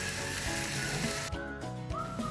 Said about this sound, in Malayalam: ഇട്ട പൊടിയെല്ലാം ചെറിയ തീയിൽ ഒന്ന് മൂപ്പിച്ചെടുക്കണം